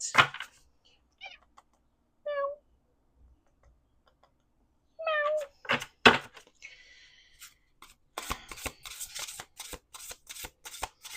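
A cat meows several times, short rising and falling calls spaced a second or two apart, close by, followed by a run of brisk clicking and rustling handling noises.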